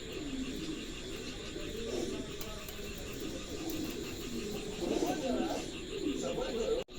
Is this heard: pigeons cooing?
yes